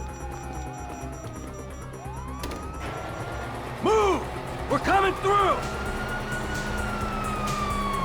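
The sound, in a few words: police sirens in Grand Theft Auto video game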